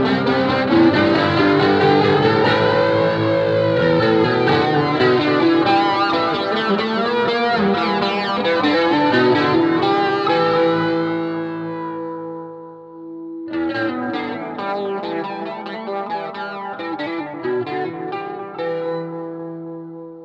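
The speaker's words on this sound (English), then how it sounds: "So you can hear as I turn the volume down, I'm losing all the gain and the girth and everything, and the resonance of the flanger is coming through." Electric guitar played through a flanger without an attenuator as the volume is turned down: loud distorted chords and phrases with a swirling sweep, a brief drop near the end, then thinner, resonant playing resumes.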